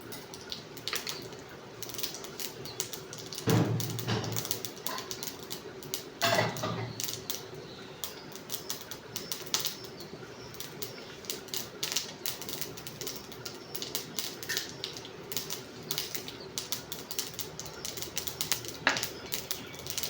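Mustard seeds and urad dal crackling in hot oil for a South Indian tempering, giving a steady scatter of faint, fast pops and sizzle with a few louder bursts, no talk over it.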